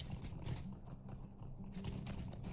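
Horse hooves in the Lord of the Rings video game: a steady, close clip-clop of hoofbeats in an even walking rhythm, moderately quiet and continuous across the moment, with no talk over it.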